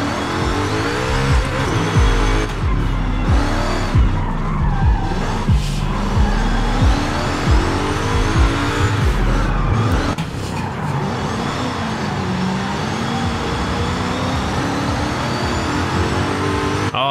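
BMW E30 driving and skidding in the Forza Horizon 5 racing game, a loud sustained engine drone with squealing tires sliding through turns, then a steadier engine note as the car pulls out onto the street.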